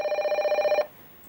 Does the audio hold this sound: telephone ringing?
yes